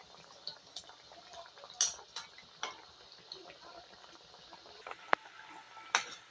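Potato cutlets shallow-frying in a pan over a medium gas flame, giving a soft, steady sizzle with scattered small pops and ticks, fairly quiet and close.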